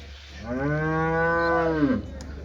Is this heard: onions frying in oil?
no